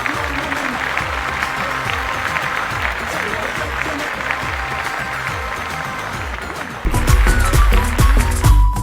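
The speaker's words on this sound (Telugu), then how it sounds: "గట్టిగా చప్పట్లు" Studio audience applause on a Telugu TV game show, sustained clapping at even strength that swells louder in the final seconds as more sound joins in.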